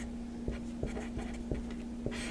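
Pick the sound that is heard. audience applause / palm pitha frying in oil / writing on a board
writing on a board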